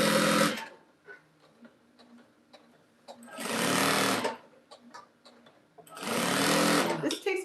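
Sewing machine stitching a long quilt seam, running loud in three sustained bursts separated by quieter pauses with faint handling sounds; close and clear.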